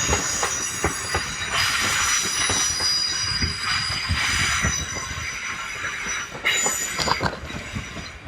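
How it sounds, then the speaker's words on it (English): A London Northwestern Railway train running through Crewe station, loud and close, with steady rolling rumble, wheel clatter and high metallic squeals from the wheels throughout, no voices. "The late running 12:29 London North Western Railway service to Liverpool Lime Street."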